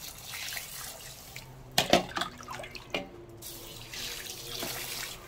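Water poured from above over coarse kimchi salt to rinse out the bitter brine, a running splash with clustered gurgling and dripping in the middle, close and steady.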